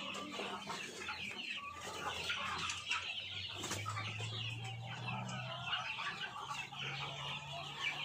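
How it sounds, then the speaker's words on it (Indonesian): Nine-week-old chickens cluck and chatter inside a coop, a steady busy flock murmur with occasional louder calls and a low hum underneath. "ayam-ayam kami ini di usia 9 minggu lebih ini sehat-sehat teman-teman semua ya"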